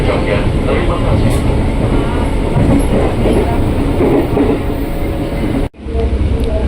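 A KRL commuter train bound for Cikarang rolls along at midday with a dense, steady rumble and wheel noise, interrupted by a brief sharp dropout near the end, heard from on board.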